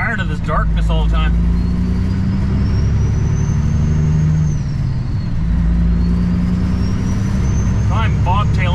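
A semi truck cab driving bobtail with no trailer attached, its engine a steady loud drone throughout, with a brief dip in engine note midway and a voice speaking briefly at the start and end.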